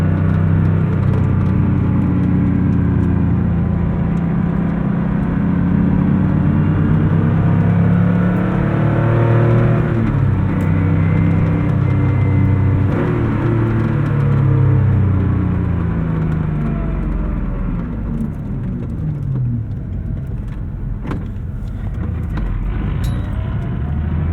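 A 1988 Porsche 911 Carrera engine drones and rumbles continuously while driving, with a steady low growl and slight changes in pitch as it pulls along.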